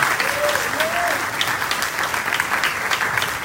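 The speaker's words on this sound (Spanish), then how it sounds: "Y recibimos con un aplauso al siervo del Señor, nuestro hermano Pastor Tony Moya." Church congregation applauding to welcome the pastor, a steady wash of many hands clapping with brief vocal whoops rising early on.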